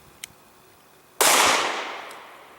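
A Smith & Wesson M&P Shield 9mm fires a +P HST round into ballistics gel: one sharp, loud, close report with a ringing tail that fades over about a second, preceded by a faint small click.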